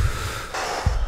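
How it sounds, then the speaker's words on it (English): Breaths of a patient in the First Responder Simulator video game, heard just after artificial ventilation: two short, close breath bursts with a steady hiss between them, and no talk. "let's check if he's breathing. I hear breaths."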